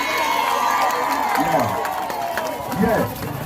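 A crowd at an outdoor cart parade cheers and claps in a dense, continuous roar at moderate distance, with scattered shouts rising above the noise.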